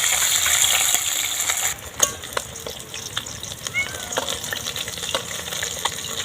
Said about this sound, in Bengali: ভালো করে ভেজে নিচ্ছি মাছগুলো